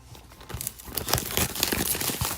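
A Pokémon card pack wrapper crinkles and tears as it is snipped open, a close run of sharp plastic crackles that grows busier after the first half second and continues to the end, with no one talking.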